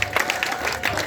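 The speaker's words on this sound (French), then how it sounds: "Vraiment un tonnerre d'applaudissements pour l'acteur" Applause from an audience honoring the actor who played the great sorcerer in a stage play about forced marriage in Africa, a short burst of dense clapping with some crowd noise mixed in.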